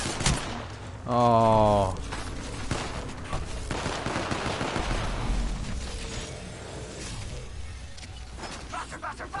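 Bursts of automatic gunfire during an Apex Legends match, loud and close, with a tonal game alert sounding early on and a player briefly exclaiming.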